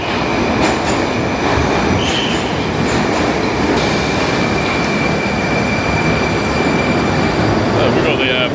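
A modern train runs along the tracks with a loud, steady rolling roar and faint wheel squeal, clicks and thumps from the carriages all through.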